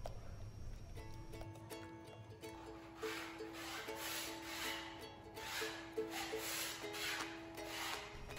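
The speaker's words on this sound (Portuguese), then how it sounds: "Então nós temos que raspar tudo para não dar problema depois." Scraping old layers of paint and stuck-on dirt from a repeatedly painted wall, a soft, steady rubbing rasp heard over a faint background hum.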